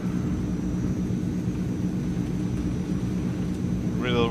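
Transall C160 cargo plane in Microsoft Flight Simulator, a steady low engine drone and rumble filling the cockpit continuously, with a short rising electronic tone near the end.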